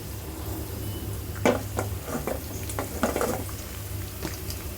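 Homemade ghee heats in a pan with a low steady bubbling hiss, while a spoon taps and scrapes through it in scattered soft clinks, close and fairly quiet.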